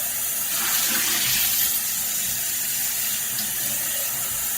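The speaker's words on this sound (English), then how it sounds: "But we just want to give this a rinse, help the pan cool down a little bit." Running tap water pours steadily onto a hot frying pan being rinsed in a dorm kitchen, a close, continuous hiss and splash without speech.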